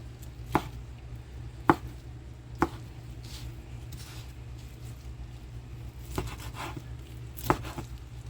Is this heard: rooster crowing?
no